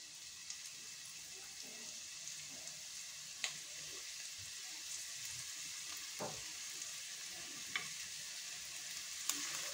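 Green chillies, mustard seeds and onions fry in a pan for a fish curry, a steady close hiss of sizzling with occasional sharp pops and crackles throughout, no talking.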